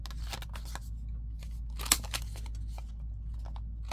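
Scissors cut through a paper tag for a junk journal envelope, a run of quick, close crisp snips and rustles with one sharper cut in the middle, and no voice over them.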